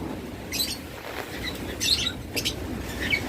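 Lovebirds, cockatiels and budgerigars chirping together, with scattered high tweets and short calls over a steady hiss of background noise, moderately faint, with no talking.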